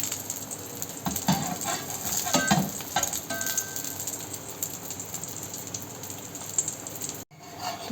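A pancake cooks in a hot pan, giving a continuous soft sizzle and crackle throughout, with a few light clinks of a utensil and no talking.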